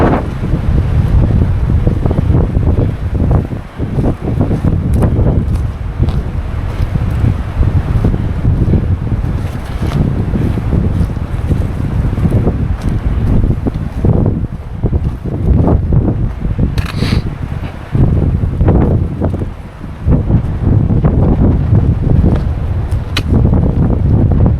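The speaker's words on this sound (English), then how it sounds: "Ooh, it is windy." Strong wind buffets the microphone at an open hiking vista among pines, a loud continuous low roar with gusty swells and brief dips, no talking.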